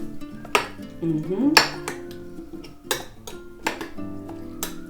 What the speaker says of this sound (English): Just give it a little bit stir.